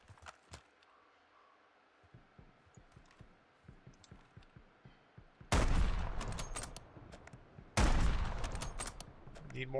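Bursts of gunfire in Call of Duty: Warzone: a run of rapid light shots, then two loud, sharp salvos that ring out over the quieter ones.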